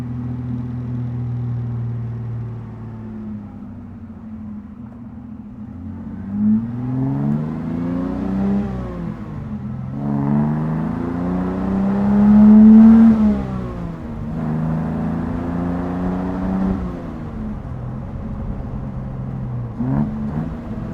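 A classic Healey sports car's engine drones while driving, a low steady hum that rises and falls with gear changes and acceleration, close and continuous throughout with no talking.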